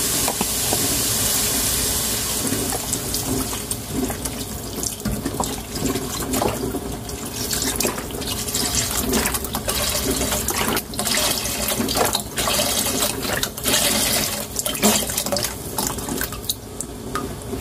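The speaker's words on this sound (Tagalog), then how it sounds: "Tapos, lagay na natin yung chicken broth natin" Chicken broth poured into a pot of Filipino sopas, a steady continuous liquid splashing and pouring that runs loud and unbroken throughout, with no talking.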